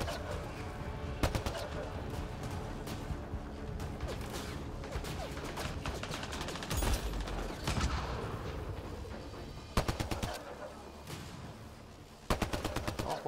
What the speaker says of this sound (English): A lot of shooting at these things